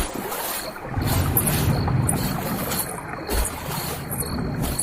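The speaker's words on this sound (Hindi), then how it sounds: "वन्ना फोन कट कर देती है और विराट वापस से नदी पार करने लग जाता है।" A boat crossing a river: a continuous wash of water and wind, with soft rhythmic surges like paddle strokes roughly every second, fairly close and with no one talking.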